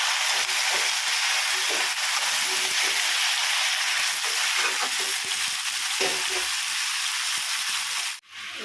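Vegetables frying in hot oil with spices for a prawn curry, a loud continuous sizzle and hiss that holds steady for several seconds, then cuts off abruptly near the end, with no voices.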